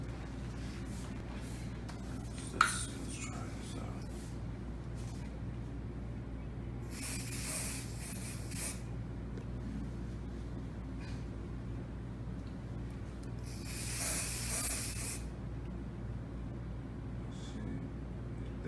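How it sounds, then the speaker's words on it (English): Hair Cube hair product is sprayed onto a head in two separate hissing bursts, each lasting a second or two, against a quiet low background hum. "Make sure you spray for about 3 seconds in a full rotation."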